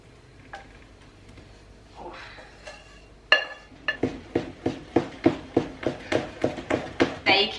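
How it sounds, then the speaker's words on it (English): Chocolate, butter and vanilla mixture being folded into cake batter, starting with scattered clinks, then a steady run of rhythmic scraping strokes of a utensil against a bowl, close and fairly loud. "Now we're going to mix in our chocolate mixture, which has the chocolate, the butter and the vanilla extract."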